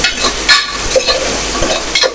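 A spoon turns salted onions and potatoes over in a hot pan, giving loud, close scraping stirs in a loose rhythm over a constant frying hiss.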